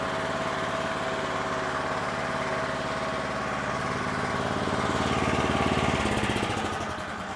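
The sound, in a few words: Predator 459cc small gasoline engine running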